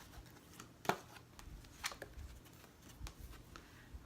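Shiny cards being shuffled by hand, a few crisp riffling bursts and soft flicks spaced irregularly, close and fairly quiet.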